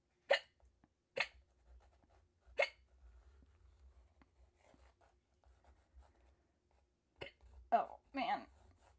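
A woman's hiccups during a live painting session: three sharp, close hiccups in the first few seconds, then a quiet stretch with faint scratching like pen on paper, ending in a cluster of voiced hiccup-like sounds.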